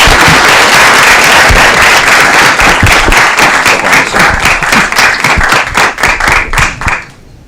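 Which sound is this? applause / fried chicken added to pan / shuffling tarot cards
applause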